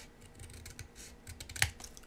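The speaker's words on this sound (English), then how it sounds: "I'm going to take my scissors" Scissors trim through card paper for a handmade card, giving a few faint close snips with one sharper cut standing out in a quiet room.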